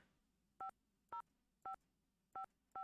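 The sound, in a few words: telephone number being dialed in Nancy Drew video game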